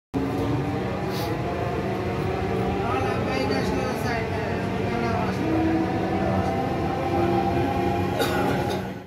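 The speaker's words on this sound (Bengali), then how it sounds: "তো ট্রেন আসা মাত্রই সবাই যার যার সিট দখলের জন্য তাড়াহুড়ো করে ট্রেনে প্রবেশ করছিল।" A metro train rumbles and hums at a station as passengers hurry aboard, with a steady mechanical drone, faint squeals and clicks, and people talking over it.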